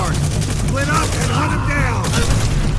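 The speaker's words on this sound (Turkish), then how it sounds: "Bana da bomba attı ya." Loud, continuous gunfire and explosions fill a World War II battle scene in Call of Duty: World at War, with rapid shots and booms over a dense battle din while a voice speaks throughout.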